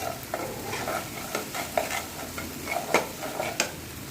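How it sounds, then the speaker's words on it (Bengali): A spoon stirs whisked yogurt into a simmering gravy of cashew and poppy seed paste in a pan for a vegetarian doi potol, with soft scraping strokes at an irregular rhythm over a steady gentle sizzle, close and moderate. "দইটা দিয়ে ভালো করে নেড়ে গ্রেভি থেকে যখন তেল ছাড়বে তখন আমি এর মধ্যে দিয়ে দেবো জল"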